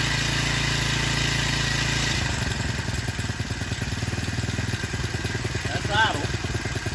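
A Hankai 4 horsepower four-stroke outboard engine idles steadily, a low even chug that shifts to a faster pulsing rhythm about two seconds in, with a brief faint whistle near the end.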